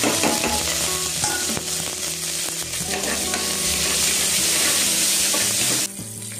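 Shallots and a green chili fry in hot oil for tomato biryani, giving a loud, close, continuous sizzle with stirring scrapes throughout that drops off slightly at the end.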